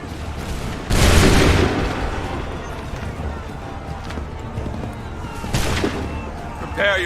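A musket volley from a line of soldiers in Assassin's Creed 3 goes off as a loud, booming burst, then lingers while a second blast follows several seconds later, all set against a busy battlefield.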